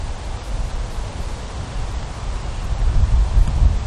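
Strong wind buffets the microphone on an open golf course, a continuous heavy rumbling roar that swells louder near the end, with no voices.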